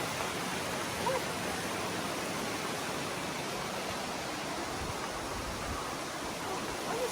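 A small waterfall on a quiet Scottish trail pours in a constant, even hiss of falling water, moderately near and unbroken throughout, with no voices over it.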